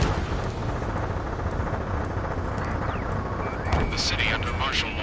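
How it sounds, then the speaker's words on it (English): Gunfire and jet engine roar in the combat flight game Ace Combat 7, set over a city under martial law: a continuous rumbling barrage with crackling bursts and a jet sweeping past near the end. "Gunfire and the roar of jets echoing through the streets."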